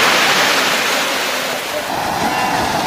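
Stormy sea waves crashing and surging along the shore at Lazarevskoye, a loud, continuous roar of surf mixed with wind buffeting close by.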